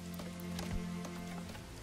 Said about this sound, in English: the rain is actually killing me